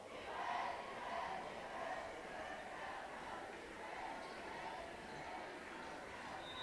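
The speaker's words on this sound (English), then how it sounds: "North Decatur's pep crowd really rocking it out tonight" A North Decatur pep crowd cheers through a high school basketball game between the Southwestern Spartans and North Decatur Chargers, a steady, roaring mass of voices that swells slightly early and then holds at a constant level throughout.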